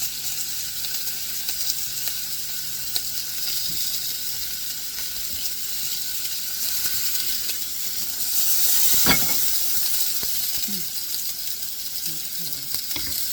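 Steak sizzles on a grill as its fat burns off, a loud, continuous hissing crackle heard up close, swelling briefly partway through with a sharp spit.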